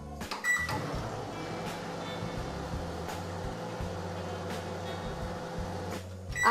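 A microwave oven starts up with a beep when its start button is pressed, then a low steady hum and rhythmic whirring drone runs on, close by.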